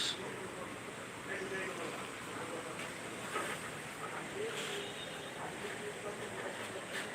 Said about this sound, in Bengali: দেখেন কিভাবে বাতাস বইছে